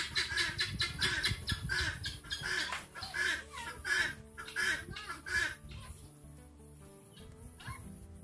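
Chickens clucking close by in a backyard, a busy run of repeated sharp clucks and calls for several seconds, thinning out toward the end, with no speech over them.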